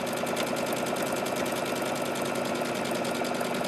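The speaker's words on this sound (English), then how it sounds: "Fold it over once, twice, and sew." A sewing machine runs a straight stitch through a folded fabric book cover, giving a fast, steady mechanical whir with an even, rapid rhythm throughout.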